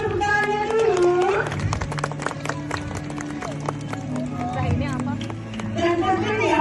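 Audience applause at a presentation show, dense, continuous clapping from a crowd that swells and holds for several seconds while a voice speaks over it.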